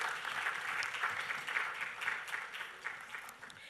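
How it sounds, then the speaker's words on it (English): A steady round of clapping from a crowd at a mental health forum, sustained and fairly even throughout, fading slightly toward the end. "A round of applause for Dr. Collins Bedu Agyeman."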